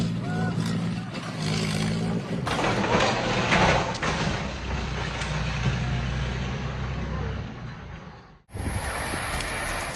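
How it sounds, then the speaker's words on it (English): A runaway farm tractor's engine keeps up a steady, heavy low rumble with droning tones and clattering noise, loud and close, then cuts off abruptly near the end before a hissy wash returns. "the tractor decided it was the perfect time to run off and do its own thing"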